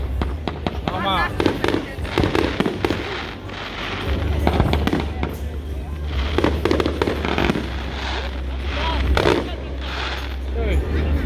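Fireworks at the Inselfest island festival in Krakow am See, Germany: a rapid string of sharp bangs and crackling bursts with heavy rumbling booms, continuous over about eleven seconds, while people talk nearby.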